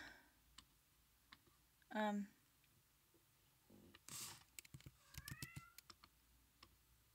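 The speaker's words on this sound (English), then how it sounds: "There's my cat, still going." A house cat gives one clear, drawn-out meow near the start, then a second wavering meow later, among faint clicks and typing sounds and quiet room noise.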